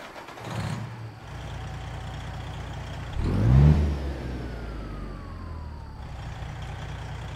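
A Freightliner Classic XL with a 14-liter, 515-horsepower Detroit Diesel 60 cranks and fires up, a loud burst of revving settling into a deep, steady diesel idle close by.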